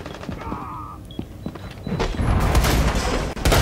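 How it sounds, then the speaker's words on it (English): Explosions and bursts of gunfire crash in the tactical shooter game Rainbow Six Siege, starting with scattered shots and thuds and swelling into a loud continuous barrage of blasts and rapid fire. "Massive explosions everywhere."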